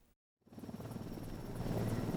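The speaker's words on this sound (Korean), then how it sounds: "산불 진화헬기가 긴 호스를 이용해 물을 가득 담은 뒤 바람을 일으키며 육중한 기체를 들어올립니다." A large firefighting helicopter lifts off after filling with water through a long hose, its rotor wash swelling from a brief silence into a steady, rising roar and buffeting wind.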